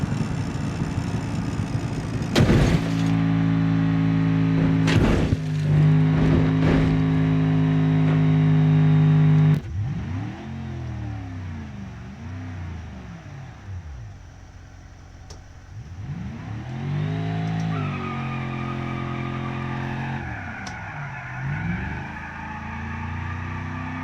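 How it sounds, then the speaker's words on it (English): A muscle car's engine revs hard in a racing video game played with a steering wheel. The tires shred and squeal at part throttle, loud and continuous, with the engine pitch rising and falling through repeated surges. "Just casually shredding the tires at full, like half throttle."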